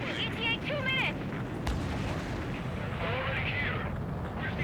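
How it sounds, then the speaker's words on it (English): Bomb explosions in the Ace Combat 7 flight combat game, Anchorhead Raid mission, a dense continuous rumble of blasts with aircraft noise, accompanied by someone talking over it throughout. "see the first bombs that go off"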